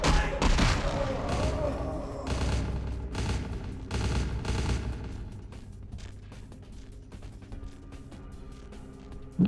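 Bursts of gunfire ring out in a vampire video game, several loud rapid volleys in the first half, then sparser, fainter shots trailing off.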